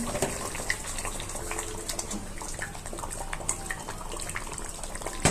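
Water runs into a simmering egg curry, giving a continuous splashy, bubbling wash with small crackles scattered throughout, at moderate loudness and with no clear voices.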